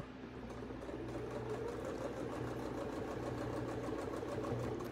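A sewing machine stitching quilt pieces runs steadily with a continuous mechanical whir and fine rapid needle clatter, close and even throughout with no talk.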